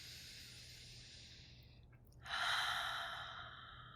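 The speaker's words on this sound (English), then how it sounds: "Let's breathe." Deep breathing during a guided meditation: a soft, airy exhale followed by a louder, fuller inhale-like rush midway, close and steady with faint hum beneath, no talking.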